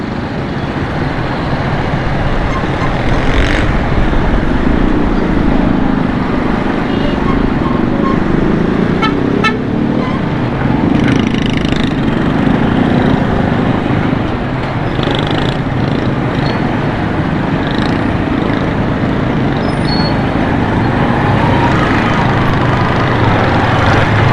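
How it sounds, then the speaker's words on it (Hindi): Dense roadway din from a heavy traffic jam in Karachi, with car horns tooting repeatedly near and far over a constant loud engine and street rumble. "यहाँ पर जो है ना बहुत ज़्यादा ट्रैफिक जाम है"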